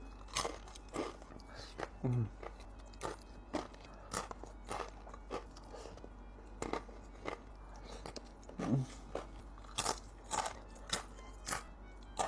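Spicy crispy rice crackers crunched up close, a steady run of sharp bites and chewing crackles repeating every second or so over a quiet background.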